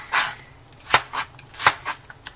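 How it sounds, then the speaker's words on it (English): A sharp knife chops an onion on a cutting board, a series of distinct close thuds at an uneven pace, about eight strikes with short pauses between them and no talk. "Keep on chopping this onion"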